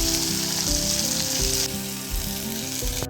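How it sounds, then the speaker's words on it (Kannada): Field beans (avarekalu) fry in a hot tempering, a dense, continuous close-up sizzle heard throughout, with background music playing underneath. "ಇದಕ್ಕೆ ಅವರೆಕಾಳು ಹಾಕ್ಕೊಂಡು ಫ್ರೈ ಮಾಡ್ತೀನಿ."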